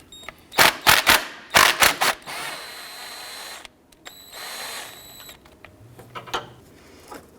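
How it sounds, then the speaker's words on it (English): A ratchet with a 10mm socket on an extension loosens the ground strap bracket bolt near the engine mount of a 2009-2015 Honda Pilot. Several loud, close clicking bursts are followed by quieter metallic tool sounds and a brief whine. "We're going to use our 10mm socket extension to go ahead and undo this ground strap bracket right here."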